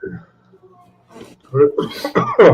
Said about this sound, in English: Sorry, the cough is really painful.